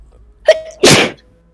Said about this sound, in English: Managed to sneeze so loud